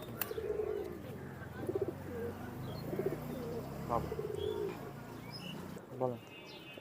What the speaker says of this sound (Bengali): এটা হচ্ছে আমাদের বিদ্যুৎ গ্রুপের কবুতর